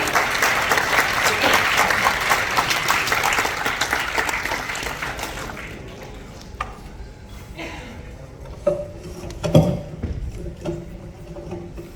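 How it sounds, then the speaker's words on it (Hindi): Audience applause at a gathering honoring a spiritual guru swells loudly at first, then fades after about six seconds into scattered claps, shuffling and room noise with a few distinct knocks. "तालियों से एक बार स्वागत करेंगे।"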